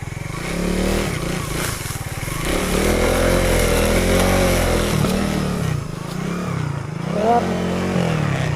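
A motorcycle engine labors loudly up a steep hill through a sugarcane field, its pitch rising and dipping under heavy strain as the rider pushes on, close and continuous throughout.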